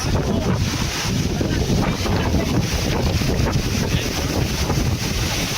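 Strong typhoon wind roars without a break against the microphone, broadband and loud throughout, with a steady churning rush that may carry heavy rain, and no one speaking.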